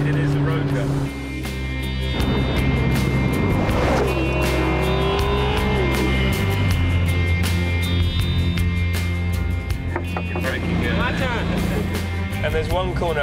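A McLaren MP4-12C engine roars and climbs through the revs at full throttle on a track, with a brief tire squeal and someone talking over the steady drone.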